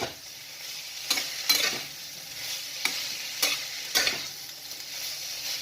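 A potato and pointed gourd curry is stirred in a pan: five or six scraping strokes at uneven intervals rise over a soft, steady sizzle.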